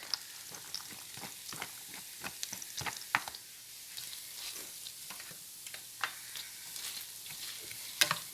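Onions and mushrooms sauté in a pan for a shepherd's pie, a steady soft sizzle broken by repeated scraping strokes of a utensil, with a few sharper clinks near the end, no talking.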